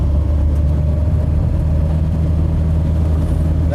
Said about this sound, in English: Yeah, that is her opened up uphill.